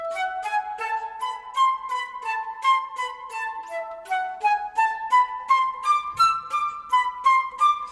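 Solo flute playing a sixteenth-note orchestral excerpt at a slow tempo, a steady stream of clear detached notes with brief gaps for quick breaths, close and alone.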